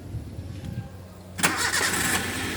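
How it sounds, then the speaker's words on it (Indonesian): A Toyota Avanza engine being started: a quiet moment, then the starter cranks and the engine catches abruptly and settles into a steady, fairly loud idle, close by. "Lalu kita harus menghidupkan mesin, kita harus merasakan begitu kita starter"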